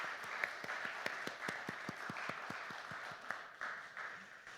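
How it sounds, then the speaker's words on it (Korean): Congregation applauding during a Sunday church service, a steady wash of many hands clapping with a few sharper individual claps standing out, filling the room evenly throughout. "좀 격려의 박수 하도록 하겠습니다."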